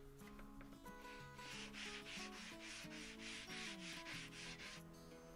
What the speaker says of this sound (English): and then give it a light sanding down,